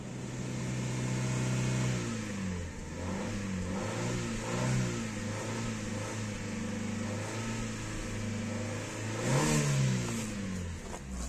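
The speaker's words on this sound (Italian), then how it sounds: "continuiamo con le nostre progressive accelerate per far riscaldare ancora di più il motore" A Fiat Fire car engine is revved repeatedly in progressive throttle blips to warm it up, with close, steady idle punctuated by rising and falling revs.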